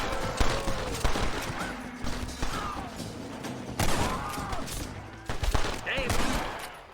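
Gunfire in the Western video game Red Dead Redemption, repeated shots and rattling bursts over a shootout, with voices talking between the shots.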